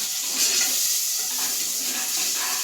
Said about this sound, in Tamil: இப்போ மிளகாய் போடு. பூண்டு போடு. கிண்டிக்கலாம்.